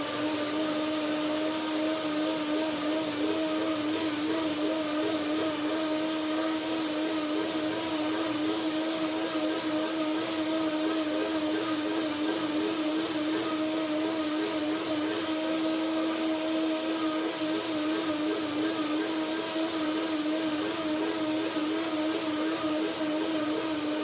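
Blender whirring cashew cream for a lemon cashew banana topping, a steady, loud motor drone with a fixed pitch running without pause, nobody speaking over it.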